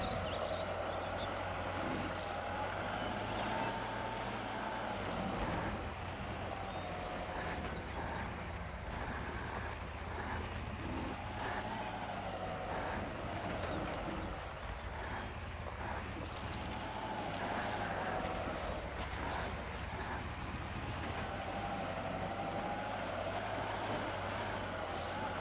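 KamAZ truck engine in the SpinTires off-road game, a steady low diesel drone with a sustained rumble and faint whine, loud and continuous throughout with no talking.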